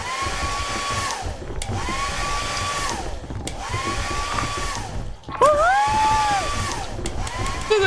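A hair dryer runs in a horror robot video game, a loud steady whooshing blow repeatedly switching on and off with a rising whine at each start, lasting several seconds per burst.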